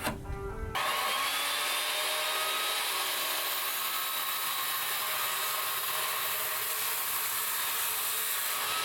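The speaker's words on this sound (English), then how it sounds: "so I cut a corner off the panel for that" A saw cuts the corner off a wooden half-deck panel for a Toyota Tacoma short bed, a loud continuous whine that starts abruptly after a brief start-up burst and runs steadily to the end.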